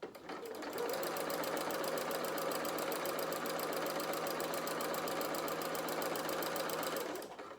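Sewing machine stitching fabric at a steady fast rate, a continuous mechanical whir with a rapid rhythmic needle chatter that starts up, runs evenly for several seconds, then winds down, close and loud.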